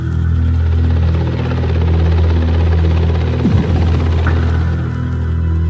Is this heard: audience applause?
no